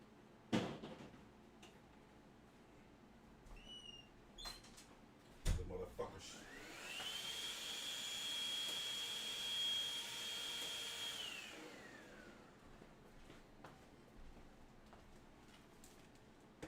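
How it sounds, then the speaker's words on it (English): A vacuum cleaner switches on and runs steadily for several seconds with a high whine, then winds down, after some clatter and knocks nearby. "I'm going to get him in the vacuum."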